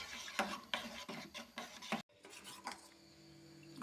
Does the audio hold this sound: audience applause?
no